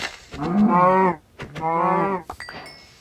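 Two long, loud cow moos from Minecraft survival gameplay sound close together, each a drawn-out low bellow, followed by faint clicks and a short tone.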